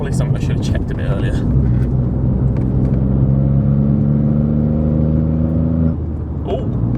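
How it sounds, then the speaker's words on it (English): A rebuilt Ford Fiesta MK7 with a 1.0L EcoBoost engine pulls up through the revs, its close, loud engine note rising in steady tones for several seconds before easing off, with a light turbo whir on top and some speech. "makes nice little turbo noise"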